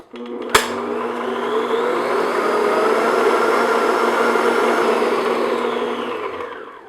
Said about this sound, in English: And now I'm just going to beat this medium-high speed.